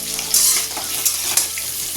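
Potatoes fry in a pan with a steady, close sizzle and a few brief stirring scrapes, with no one speaking.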